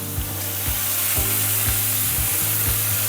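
Steak sizzling loudly in a pan as butter goes in for basting, a dense continuous hiss with a regular low thumping underneath, close up and with no talk.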